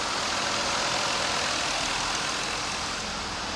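A car engine running on a road test after a water pump change, a steady, even drone heard from inside, constant throughout with no talk.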